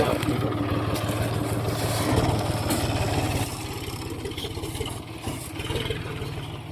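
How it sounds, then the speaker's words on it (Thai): A tractor engine idles during sugarcane planting, a steady low mechanical chugging rhythm close by that softens slightly midway, with voices talking over it. "รถไถ"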